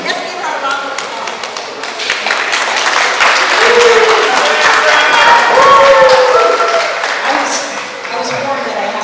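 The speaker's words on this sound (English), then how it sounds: "Let's give her a round of applause." Audience at a Santacruzan event bursts into sustained applause, dense clapping swelling and fading over several seconds, with voices and cheering mixed in.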